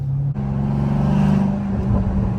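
Dodge Challenger Scat Pack 392 with modified exhaust: a loud, continuous deep rumble and drone heard close, steady throughout with slight wavering, with no distinct pops standing out.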